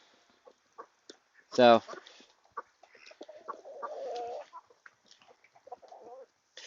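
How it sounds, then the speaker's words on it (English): Backyard chickens and ducks cluck and call softly at close range around a feeding area, with one loud squawk near the start and low murmuring birds afterward. Someone speaks a word. "So we got ducks and chickens"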